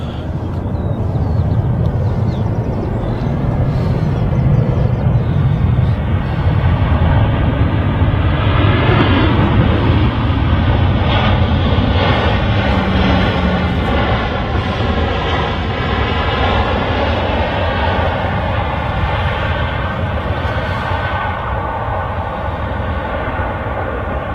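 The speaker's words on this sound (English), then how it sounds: "Ryanair 737-800. As Matt said, it's in from Palma." Ryanair Boeing 737-800 arriving from Palma at Manchester Airport, a sustained jet engine roar that builds slightly and stays loud and steady for the whole stretch.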